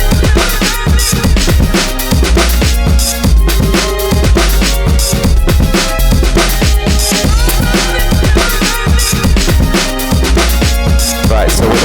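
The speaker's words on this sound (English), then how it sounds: "So for instance, the strings are gonna sound like this." Loud, dense four-bar house loop with strings layered over a punchy kick and hi-hats, playing continuously at an even dance tempo, full and upfront without any voices.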